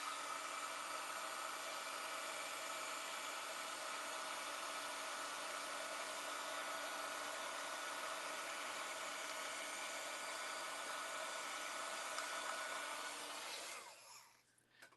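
A heat tool blows a steady, even whir for about fourteen seconds while it dries red ink on a stamped card, then cuts off and leaves near silence.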